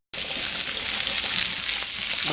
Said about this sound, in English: I know y'all hear that. Sizzling,